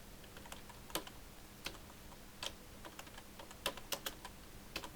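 Soft, irregular keystrokes on a computer keyboard while entering text in Microsoft Word, a quiet scattered clicking with short pauses between taps in a hushed room.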